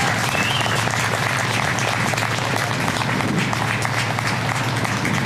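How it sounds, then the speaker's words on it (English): Outdoor crowd applause at a commemorative monument ceremony, a continuous wash of clapping at even strength from start to finish, moderately loud. "I think he really deserves a round of applause."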